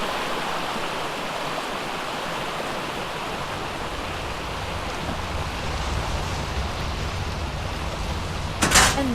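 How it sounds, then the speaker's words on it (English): A waterfall in the ARK video game pours as a continuous, loud rushing hiss that stays even throughout, ending with a short sharp knock. "Waterfall."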